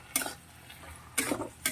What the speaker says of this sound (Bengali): এরপর আমি মশলাটা দিয়ে আরও 2 মিনিট কষিয়ে নেব।